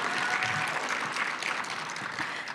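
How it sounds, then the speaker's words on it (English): Sustained audience applause fills a conference hall at a higher-education association's closing session, a dense wash of many hands clapping steadily throughout with no break. "Y'all can clap again, yeah."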